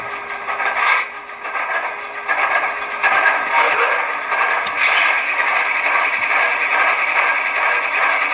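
A continuous hissing, mechanical whir runs steadily throughout: the simulated air compressor of an HO scale Intermountain ES44AC model locomotive with an ESU LokSound decoder, chugging and rattling close by during startup.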